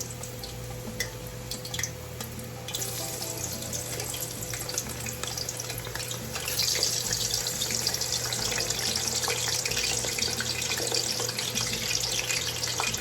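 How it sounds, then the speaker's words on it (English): Potato pieces, drained of water, dropped into hot frying oil for papas bravas, giving a steady close sizzle and crackle that swells partway through and continues without talk. "Okay, so I'm gonna start adding some of my potatoes."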